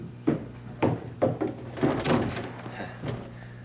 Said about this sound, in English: I hope I didn't knock a piece out of one of the dining room chairs